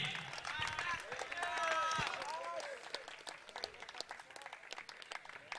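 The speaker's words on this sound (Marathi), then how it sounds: "आशिष साठी नक्कीच टाळ्या व्हायला पाहिजेत" Crowd applause at a cricket award ceremony, a steady patter of clapping that swells and then thins toward the end, with a person speaking over the first part.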